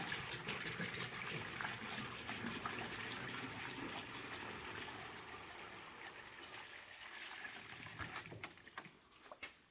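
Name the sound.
water poured into 1949 Chevy 3100 radiator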